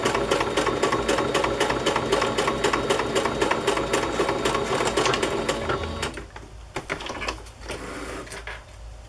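A sewing machine stitches steadily and loudly for about six seconds, a fast even mechanical rattle, then stops, leaving quieter handling noises and faint movement; the machine is in use for a wallpaper collage craft project.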